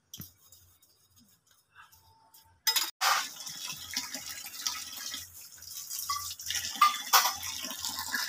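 Water poured from a vessel onto a used plate in a Bengali village home, a faint trickle at first, then a louder continuous splashing pour after a brief clatter, running on to the end.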